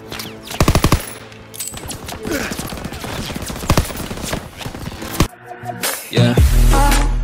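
Machine gun fire rattles in a Call of Duty WW2 battle near a hangar, with rapid bursts up front, then continuous loud shooting and blasts filling the scene and a low rumble at the end.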